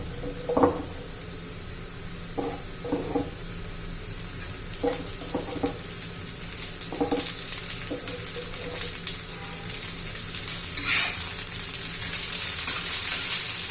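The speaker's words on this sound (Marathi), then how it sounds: "आता त्यातच आपण मिरची टाकून घेऊया" Onion and green chillies fry in a pan with a soft steady sizzle, broken by a few sharp taps and scrapes of a spoon stirring, close by and without speech.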